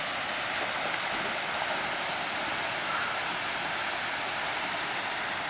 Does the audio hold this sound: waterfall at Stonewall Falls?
yes